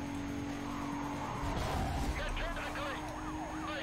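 Police car sirens wailing in the Need for Speed: Carbon racing game, rising and falling sweeps over a low engine rumble and tyre noise, with a player talking over the action.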